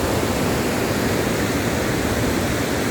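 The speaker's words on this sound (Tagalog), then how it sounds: "Doon bumabagsak ng tubig sa pinanggalingan natin." Water pours over Wawa Dam in Rodriguez, Rizal, a steady broadband roar that stays loud and unbroken from start to finish with no other sounds.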